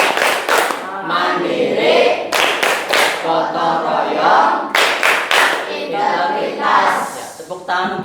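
A class of schoolchildren stands and performs the Tepuk PPK, a rhythmic clapping chant, with bursts of claps alternating with shouted chanted words in a steady pattern, loud and close throughout.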